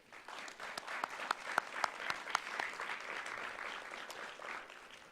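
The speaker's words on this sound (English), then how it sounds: "please join me in giving them a round of applause" Applause for graduates at a school district board meeting, a steady wash of clapping from a modest audience with a few louder individual claps standing out, moderately quiet and sustained throughout.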